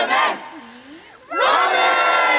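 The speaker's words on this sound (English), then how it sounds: "Alright, one last cheer." A team lets out a loud unison cheer, a short shout that dips into a lull, then rises again into a sustained group yell, close and energetic.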